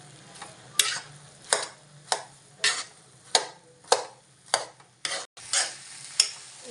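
A spoon stirring and mixing biryani in a pot, with rhythmic scraping strokes about every half second, close and clear over a faint sizzle.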